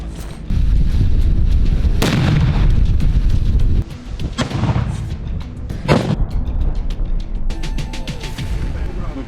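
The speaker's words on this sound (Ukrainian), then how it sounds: "Подивимось, чи власне вони витримають цей вибух" A landmine explodes with a loud, sharp hit, a deep rumble and crackling aftermath, followed by further bangs and voices talking nearby.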